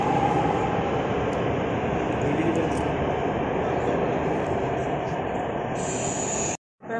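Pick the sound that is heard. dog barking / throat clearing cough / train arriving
train arriving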